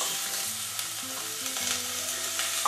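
Chopped cabbage and other vegetables are stirred and sautéed in oil for a corn chowder, giving a soft continuous sizzle with light scraping of the spoon, close and quiet, with no speech.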